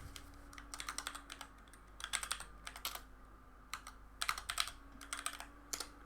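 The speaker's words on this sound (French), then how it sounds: "je suis sûr que vous entendez les bruits de clavier" Fast typing on a computer keyboard comes in quiet clusters of clattering keystrokes, separated by brief pauses, over a faint background hum.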